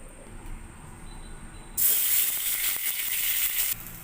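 Rice coated in salt and turmeric is fried in hot oil in a kadai, with a sudden loud sizzling hiss that starts partway through and continues strongly up close.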